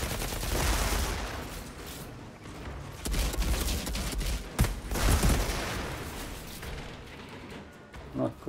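Guns fire in Outriders, a video game, in dense bursts that carry on without a break. Booming blasts punch through the shooting, which stays loud and close for the whole stretch.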